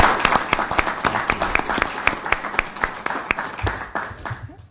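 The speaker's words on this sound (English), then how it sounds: "Let's give them another last round of applause." Applause at a city council meeting in Lincoln, a moderate crowd clapping with distinct individual claps audible in an uneven rhythm, tapering off at the end.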